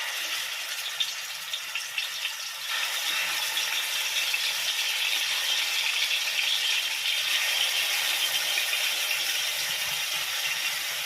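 Chicken pieces, legs first, sizzle in a hot pan for biryani: a steady, bright hiss that swells after a few faint crackles and holds evenly, with no talking.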